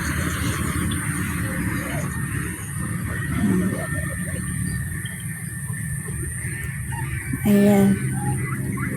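Domestic ducks coming home on a rural province farm, their calls mixed into a steady, busy background with one louder honking burst near the end; no speech is heard.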